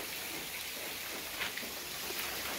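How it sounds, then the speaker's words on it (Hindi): Rain falls steadily at the Anjani Mata temple on Mount Abu, a soft, even hiss with faint scattered drops throughout. "यहाँ पे बारिश होते हुए"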